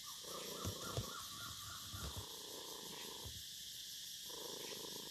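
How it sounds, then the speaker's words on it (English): A cat purrs steadily and close by, a low continuous rumble with soft rhythmic pulses, no one talking. "Can you hear him purring?"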